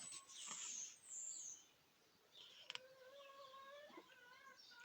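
Faint birdsong in a quiet outdoor setting, with high whistling calls early and a repeating warbling phrase later, distant and soft.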